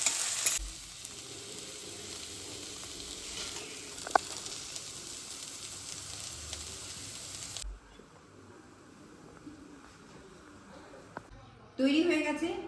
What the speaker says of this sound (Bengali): এবার আমি খুব ভালো করে গ্যাসের ফ্লেমটা বাড়িয়ে দেবো ভাজা ভাজা হওয়ার জন্য